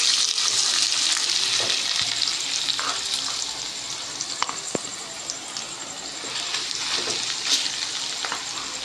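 Mooli bhajiya batter of grated radish, spices and yogurt frying in a hot pan, giving a steady close sizzle with scattered crackles and a few sharp pops, no talk over it.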